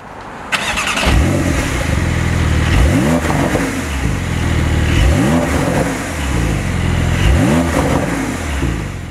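A Porsche 911 (992) Carrera S with the optional sports exhaust fires up and then gives three loud, rising revs, each dropping back to a deep, rumbling idle, with no talking.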